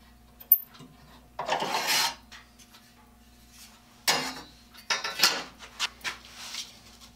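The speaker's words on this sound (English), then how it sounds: "I'm going to clean up the blade with 60 grit sandpaper" Sheets of 60 grit sandpaper scour rust from the steel blade of a pruning saw. Several close, dry rasping strokes come in separate bursts, with quiet gaps and small clicks between them.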